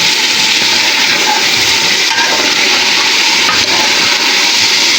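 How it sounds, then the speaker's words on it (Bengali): Mixed vegetables poured into a hot pan for a Chinese-style stir-fry, producing a loud, continuous hissing sizzle that stays steady and close throughout. "সবজিগুলো এখন সব ঢেলে দিব। আলতো করে নেড়ে দিতে হবে।"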